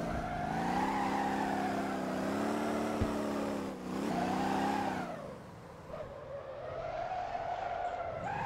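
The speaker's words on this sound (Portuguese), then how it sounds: "O pior drift já feito na história desse jogo." A car drifting on a race track in Motor Town, its engine droning at steady revs with a dip and a rise, then easing off while the tires scrub and skid. The sound is continuous and moderately loud, with no talk.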